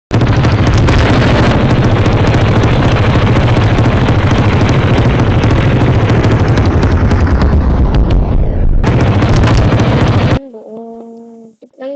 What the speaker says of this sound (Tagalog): Grabe bang motor yun?